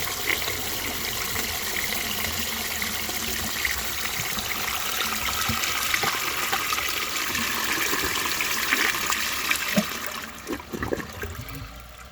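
A 1927 Peerless low tank toilet flushes a grocery bag, with water gushing and swirling steadily for several seconds before tapering off into trickles and gurgles.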